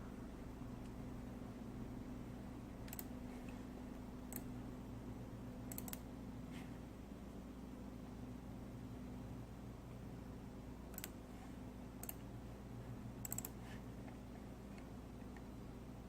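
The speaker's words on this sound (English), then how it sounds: "I'll just click a bunch of wallpapers in here and add them" Faint, sparse computer mouse clicks in small groups over a steady background hum as several wallpapers are selected.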